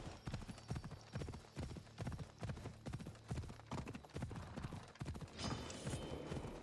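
Horse hooves clip-clop steadily in Assassin's Creed Odyssey, a close, regular trotting rhythm running throughout with a brief noisy burst near the end.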